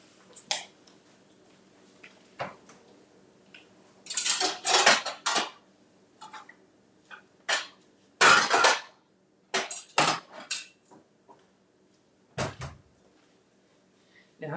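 Eggs being cooked and scraped in a dry stainless steel skillet: intermittent metallic clanks and scrapes of a utensil against the pan, some in quick clusters, close by, separated by quiet stretches with faint background hum.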